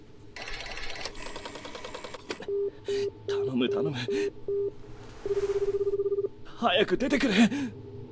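Telephone keypad tones dial the police number 110 in the horror game Hollow Cocoon, a series of short evenly spaced beeps followed by a longer held ring tone, with bursts of talk before and after.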